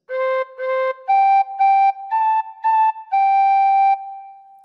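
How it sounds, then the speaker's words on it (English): A tin whistle plays the opening phrase of Twinkle Twinkle Little Star: eight clear, breathy, close notes in pairs, rising then settling, ending on a longer held tone, with no voices. "hopefully, you'll end up with something that sounds like this"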